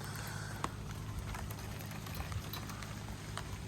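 Steady rain patters on a car parked under a tree, a dense, even hiss of drops with a few louder single hits on the roof, heard close from inside and with no talking.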